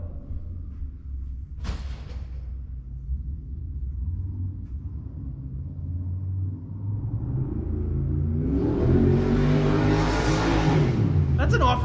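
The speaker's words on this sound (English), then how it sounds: "That's an off-road truck, dude." Racing Jeep off-road truck revving out in a parking lot, a low, distant engine rumble that swells into a louder rising rev near the end, with voices talking over it.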